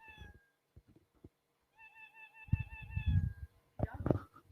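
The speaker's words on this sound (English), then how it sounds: "Start sound. Meow." A cartoon cat meow sound effect plays in Scratch, the short tonal meow repeating a few times in quick succession. A nearby voice talks in between the meows.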